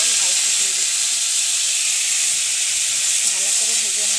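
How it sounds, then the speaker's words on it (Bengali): Neem leaves frying in hot oil in a wok give a loud, steady sizzling hiss that holds without a break, close and dense. "নিম পাতাগুলো কড়াইয়ে ভাজতে দিয়ে দিচ্ছি"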